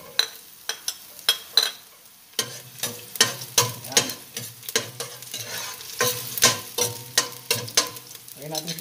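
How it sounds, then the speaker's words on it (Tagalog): Garlic and onion sautéing in oil, a low crackling sizzle punctuated by a rapid series of sharp spatula scrapes and taps against the pan, close up and fairly loud, with no speech. "Ito yung sa pagigisa natin, kailangan natin ng bawang sibuyas"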